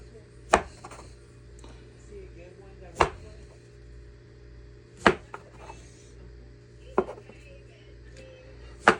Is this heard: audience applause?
no